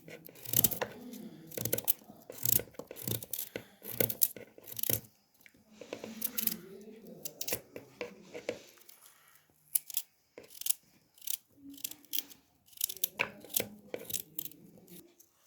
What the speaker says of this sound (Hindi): अब हम गाजर काटना शुरू करते हैं। इस तरह गाजरें भी हमने काट लेनी है।